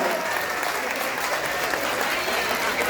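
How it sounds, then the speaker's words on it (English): An audience applauds the graduates at a 6th grade graduation ceremony, a dense and even round of clapping from a large crowd that stays steady throughout. "let's give our 6th graders a round of applause"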